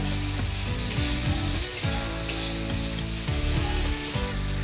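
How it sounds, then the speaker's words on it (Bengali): Spices frying in a pan with a splash of water for a moong dal and ash gourd ghonto: a loud, continuous sizzle broken by repeated scraping strokes of stirring. "এবার আমি সামান্য একটু জল দিয়ে মশলাটা ভালো করে কষে নেব।"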